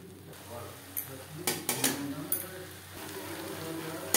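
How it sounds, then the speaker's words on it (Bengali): Boiled potatoes tossed with spices in a pan, with a few scattered scraping and clinking stirs close by over a faint sizzle, no one speaking. "মশলার সাথে আলু বেশ ভালো করে মিক্সড করে দেবো"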